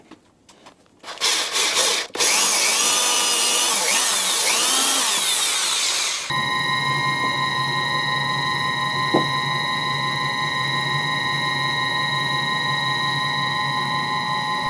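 A drill press with a slipping pulley runs with a loud, steady mechanical hum and high whine, preceded by a few seconds of rubbing and grinding noise.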